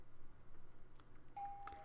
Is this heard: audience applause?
no